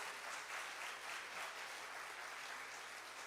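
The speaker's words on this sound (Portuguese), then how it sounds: "se você crê, você aplauda ao Senhor em nome de Jesus." A church congregation applauding the Lord during a family worship celebration, steady distant clapping from a large crowd, faint and continuous throughout without a clear start or end.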